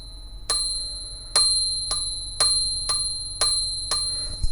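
A Princess 300 typewriter's margin bell rings during a repair, with six sharp metallic dings at steady intervals. Each strike is bright and clear and fades away before the next, with no other sound around it.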